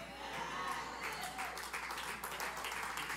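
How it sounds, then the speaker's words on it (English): Church congregation clapping throughout a service, a steady dense patter of many hands at moderate level with faint voices mixed in. "I love when you guys clap when God is talking"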